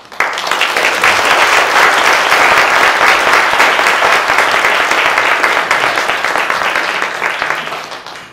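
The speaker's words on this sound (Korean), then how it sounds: "여러분 우리 조효성 목사님 나오실 적에 다 같이 박수로 환영해 주시기" A church congregation applauds to welcome a pastor, loud sustained clapping from many hands filling the room evenly before tapering slightly at the end.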